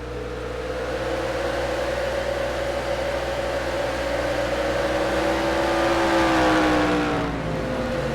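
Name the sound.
stock car engine in NR2003 racing video game, Chevrolet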